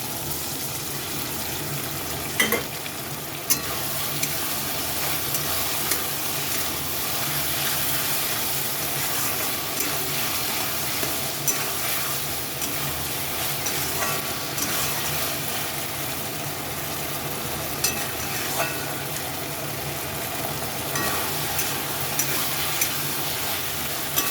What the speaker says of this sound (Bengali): এখন গুলিয়ে রাখা কর্নফ্লাওয়ারটা দিয়ে দিচ্ছি